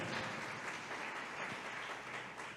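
A church congregation applauds loudly and steadily for the Lord during a preaching service, dense clapping from many hands filling the room without pause.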